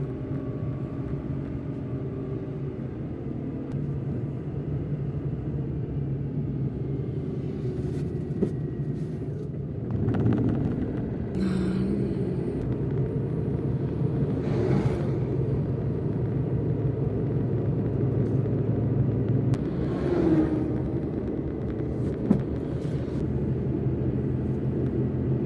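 Interior of a car cruising on a peaceful early-morning drive, a continuous low engine and road rumble with steady tyre noise and occasional faint bumps, heard from inside the cabin without talk.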